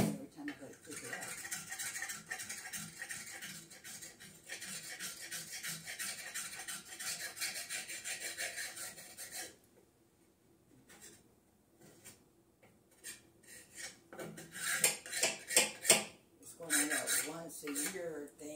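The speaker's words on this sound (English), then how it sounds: "take a wire brush and scrape off my soap mold" A wire brush scrapes soap residue off a soap mold in rapid, gritty strokes, close and continuous at first, then pausing before a few more bursts of scrubbing.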